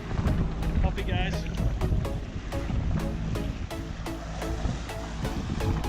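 Wind buffets a fishing boat out on the water in Southwest Arm. It makes a steady, loud roar with regular knocking thuds and a brief voice partway through.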